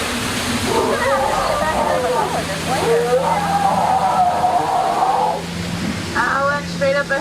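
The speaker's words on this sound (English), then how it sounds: "Now, Bertha's been in that waterfall a little bit too long now" Waterfall on an amusement boat ride: a loud continuous rush of splashing water, with people talking and calling out over it throughout and a brief squeal near the end.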